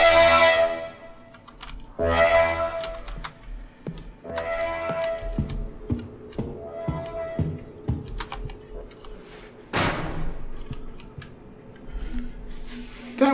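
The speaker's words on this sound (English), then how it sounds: "That was a security camera." Loud security camera noise from the horror video game Monstrum: a series of sharp ticking, clicking bursts and mechanical whirs with harsh noisy blasts, stopping and restarting across the clip, with no talk over it.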